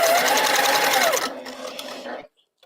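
Long-arm quilting machine stitching in a fast, even mechanical whir with a rising whine, running steadily for about two seconds before stopping abruptly, followed by near silence.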